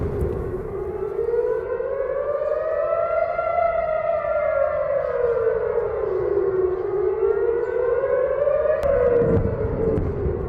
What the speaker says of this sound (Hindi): जब वेस्ट बैंक में एयर रेड अलर्ट सायरन गूंजे